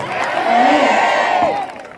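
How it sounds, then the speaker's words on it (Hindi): Church congregation clapping and cheering together, a loud swell of crowd noise with a voice rising above it, fading out toward the end. "यीशु मसीह के नाम में ताली बजाकर धन्यवाद दें।"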